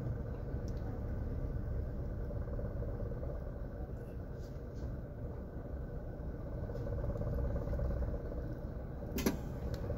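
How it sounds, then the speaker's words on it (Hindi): A car with a fitted CNG kit idles with a steady low rumble, and a single sharp click near the end marks the changeover from petrol to CNG. "ये आवाज़ आई, यानी अभी अपनी गाड़ी पेट्रोल से सीएनजी में हो गई है"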